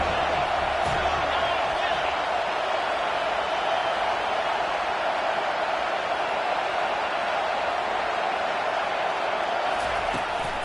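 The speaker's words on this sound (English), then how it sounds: "Decibels rising as the crowd gets behind this defense on 3rd down." Football stadium crowd at a CFL game roaring steadily on a third down, a dense, loud, unbroken wall of noise that holds without letup.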